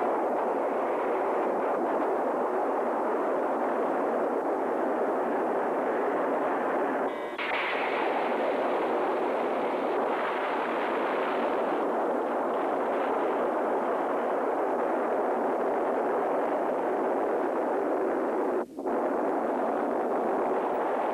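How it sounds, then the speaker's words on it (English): A megaton hydrogen bomb detonates in the air above a city: a loud, sustained, deep roar that swells sharply around the middle and carries on as a continuous rumble, with one brief crack near the end and no voices. "Megaton hydrogen bomb exploding in the air above a single city"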